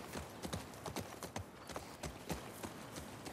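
Horse hooves clip-clop at a steady walking rhythm in The Last of Us Part II, a series of sharp, fairly close hoof strikes with no voices over them.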